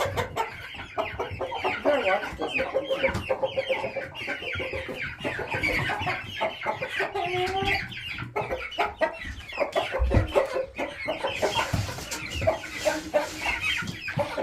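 A flock of chickens clucking and chattering continuously up close, with busy overlapping calls throughout and a person's voice mixed in now and then.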